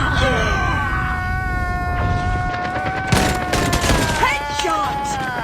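Pistol shots in a first-person shooter video game, sharp reports scattered among tonal game effects and a busy soundtrack, with brief bursts near the middle and end.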